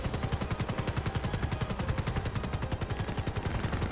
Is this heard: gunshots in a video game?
yes